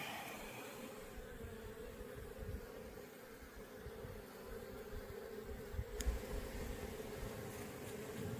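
Honey bees buzz around a hive during an apple nectar flow, a faint, continuous swarm hum with individual bees droning past, unbroken and without voices.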